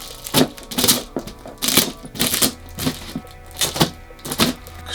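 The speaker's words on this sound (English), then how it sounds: "There's a lot of tape on this, so I gotta keep cutting." A blade repeatedly slicing through packing tape on a sneaker shoe box, giving sharp, near, crackling bursts roughly every half second with brief pauses between cuts.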